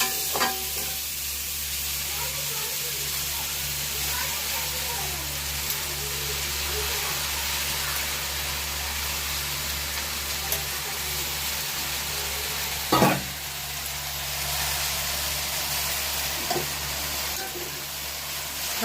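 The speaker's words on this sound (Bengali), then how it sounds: "আমি প্রথমে সবজি কাটাগুলো দিয়ে দিচ্ছি, দিয়ে নেড়ে নিচ্ছি" Chopped vegetables stir-fried in a pan, a continuous close sizzle with occasional scrapes and knocks of the stirring utensil, no talking.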